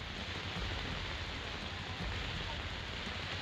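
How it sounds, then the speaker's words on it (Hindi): Continuous heavy monsoon rain in the Mumbai and Thane area: a dense, steady hiss and patter that stays loud and unbroken from start to finish. "लगातार बारिश हो रही है"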